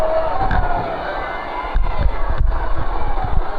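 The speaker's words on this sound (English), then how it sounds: "The Wagoner crowd is going to have to calm down and let them make a decision" A Wagoner crowd roars and yells in a gym during a tense moment late in a boys' regional consolation final basketball game, a loud continuous wall of cheering with sharper surges and thumps.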